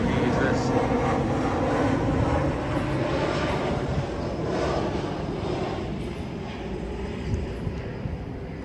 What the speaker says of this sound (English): you're going to hear a lot of planes fly by